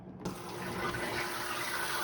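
Water runs steadily from a kitchen tap over seasoned duck legs, a continuous close splashing gush that starts abruptly and keeps flowing without pause.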